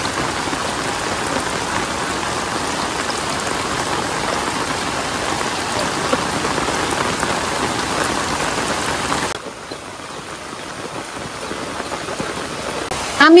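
Steady rain falls on a village setting, a dense even hiss of drops on surfaces that drops in level near the end, with no talk.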